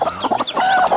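Chickens cluck in a farmyard brood area where hens sit with newly hatched chicks, a steady run of near, fairly loud calls and throaty clucks with no talking over them.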